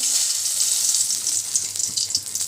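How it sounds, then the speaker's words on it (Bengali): Whole garam masala spices crackle and sizzle in hot oil for pulao, a steady bright frying hiss close up with small irregular pops, no voices. "পোলাওয়ের গোটা গরম মশলা ফোড়ন দেওয়া হচ্ছে"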